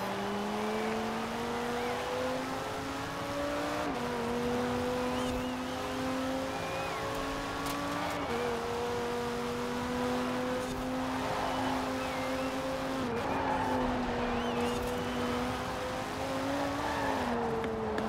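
Car engine in the racing game Forza Horizon 4, a limousine tuned for cornering, drones steadily with rising and falling pitch as it shifts through gears, continuous and close without speech.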